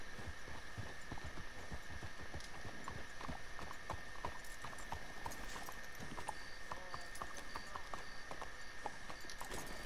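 Horses' hooves clip-clop steadily on the ground in the video game Red Dead Redemption 2, a quick continuous rhythm of hoofbeats over a low ambient hum, close and fairly quiet with no talk.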